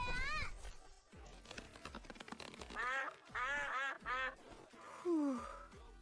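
A goose honks and squawks repeatedly in harsh, close bursts, with loud cartoonish voices and scuffling around it.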